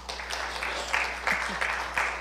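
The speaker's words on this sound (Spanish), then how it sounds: "dale un aplauso a esta joven" A church congregation applauds at a Spanish-language sermon, brief, moderately loud clapping from a modest group.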